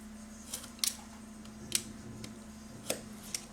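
Scissors snip through card for an easel star card, giving a handful of short, crisp cuts spaced irregularly over a steady low hum in a quiet room.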